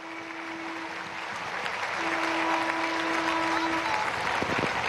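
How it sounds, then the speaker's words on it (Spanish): Crowd applause at a Guinness record event for the world's largest salsa casino wheel in Caracas, steady broad clapping that builds slightly and holds, with a sustained tone running beneath it. "pide un fuerte aplauso público."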